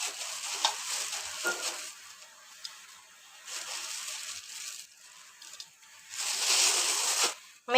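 Vermicelli stirred into boiling milk in a pan makes soft scraping swirls and bubbling sizzle in uneven bursts, close by, with a louder stretch of stirring near the end.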